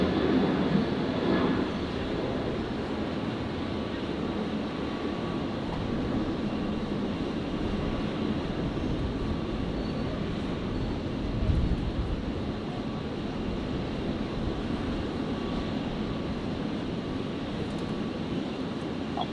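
A Qantas Boeing 737 takes off from runway 01 right at Brisbane, its engine roar a steady broadband rumble heard from a distance, holding constant with a brief swell partway through, and no talk over it.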